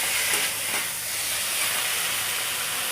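Steady broadband hiss of food cooking on a home stove, continuous and close, like steam or a gentle sizzle, with no talking.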